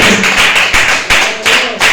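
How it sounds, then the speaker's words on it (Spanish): Loud, close applause from a church congregation, rapid clapping with a few heavier thumps mixed in, swelling and dipping in short waves over two seconds. "Aleluya, un fuerte aplauso."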